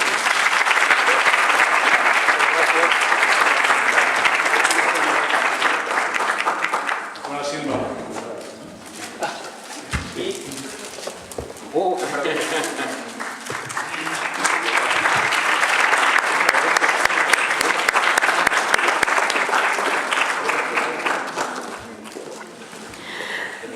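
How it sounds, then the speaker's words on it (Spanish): Sustained audience applause closing a university lecture series on Hispanic identities, dense and loud for most of the span, dipping midway where talk and scattered sounds come through, then swelling again before fading. "Pues un aplauso nuevamente para ellos."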